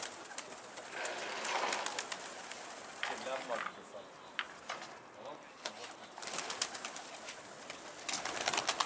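Pigeons coo and flap their wings outdoors as they are sent into flight, with brief wingbeat bursts and calls mixed over a steady outdoor background while people talk nearby.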